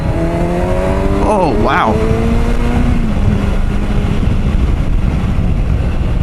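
A 2019 Kawasaki Versys 1000 SE motorcycle pulls hard to overtake, its engine note rising and sweeping upward through the gears beneath loud rushing wind, with a rider briefly exclaiming.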